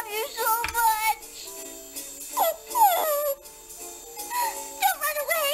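A cartoon dog in the game Fairly OddParents: Breakin' da Rules gives a run of high, squeaky yips and whimpers that rise and fall in pitch, close and fairly loud, with no talk over it.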